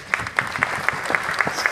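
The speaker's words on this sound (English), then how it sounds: "Okay, round of applause again for Uncle Greg." An audience at the ZestAwards evening applauds Uncle Greg, with brisk, fairly loud clapping from a modest crowd that lasts under two seconds.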